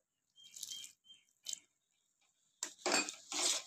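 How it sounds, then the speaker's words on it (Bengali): Water is poured in small amounts into pakora batter, giving short wet splashes and soft squishy mixing sounds in quiet bursts, the last one longer and louder. "তো আমার জলটা আরেকটু লাগবে, আমি আরেকটু জল দেবো।"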